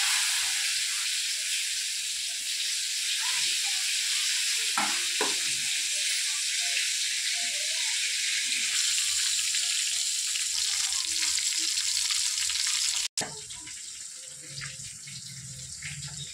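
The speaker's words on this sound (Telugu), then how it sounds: "వంకాయకైతే మసాలా పట్టించుకొని ఆయిల్లో ఫ్రై చేసుకుంటున్నాను." Masala-coated eggplant for gutti vankaya kurma frying in oil, a steady loud sizzle with occasional stirring scrapes throughout, briefly cut off near the end before resuming.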